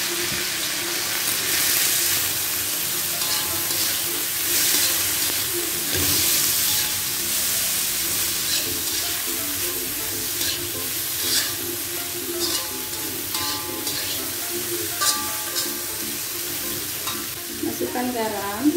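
Jicama and carrot stir-fry in a hot pan with a continuous loud sizzle, punctuated by scraping and stirring clatter of a utensil against the metal, with no talking.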